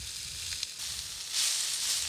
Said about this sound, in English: The camp oven lid now becomes a pan to fry up the onions to go with the meat.